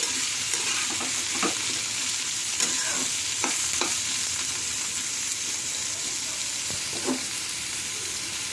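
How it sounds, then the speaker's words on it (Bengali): Prawns and onion stalks fry in a pan under a constant sizzle while a spatula stirs them in scattered scrapes and taps, close by and with no voices. "ভালো করে নেড়ে নেব"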